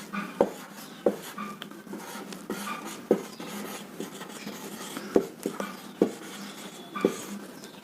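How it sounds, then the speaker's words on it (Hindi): Chalk tapping and scratching on a board while a chemical equation for zinc reacting with sulfuric acid is written in a classroom, sharp clicks at irregular intervals over soft rubbing strokes, close and fairly clear. "तो सबसे पहले रासायनिक अभिक्रिया हम लिख लेते हैं"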